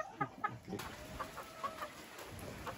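Young Golden Boy crossed with Kelso pullets, about three months old, cluck and chirp in scattered short calls at a moderate distance, with faint steady background noise.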